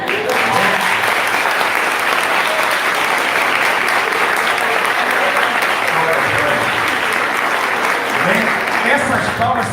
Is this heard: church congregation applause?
yes